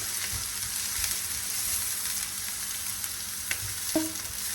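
Chopped onion frying in oil in a pan, a continuous close hiss and sizzle with a couple of faint clicks near the end, no voices.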